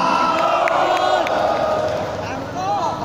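A live concert crowd at a cover band show cheers and whoops loudly, a dense roar of voices with scattered clapping that swells and then eases slightly.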